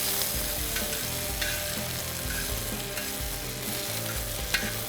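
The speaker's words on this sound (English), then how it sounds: "Make sure you move those onions and peppers around nice and neat in your olive oil." Onions and peppers sizzling in olive oil on a fire disc grill outdoors, a steady close frying hiss with occasional scraping stirs and clinks of a utensil against the metal disc.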